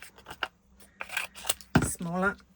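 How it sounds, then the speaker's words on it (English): Pointed craft snips cut out small handmade paper flower pieces, sounding as a few short, sharp snipping bursts spaced unevenly, with a voice talking in between. "I like to cut out each element individually to make the surface area smaller for to manage with my snips"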